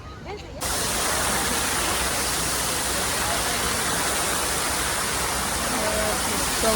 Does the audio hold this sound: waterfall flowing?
yes